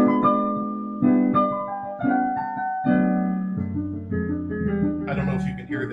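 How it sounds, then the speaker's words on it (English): Stride piano arrangement of the hymn "Lord, I Want to Be a Christian," with a bouncing left-hand bass alternating against chords and a melody on top, played close and steady at moderate loudness with no talking. "I did it as a stride piano thing."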